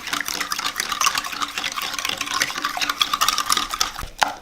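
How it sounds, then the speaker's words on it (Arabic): Liquid pancake batter ingredients stirred with a utensil in a bowl until the sugar dissolves, a steady scraping, clinking swirl without pause, close and fairly loud, ending in a sharper knock. "بدنا نخلطهم منيح لوقت ما يذوب السكر"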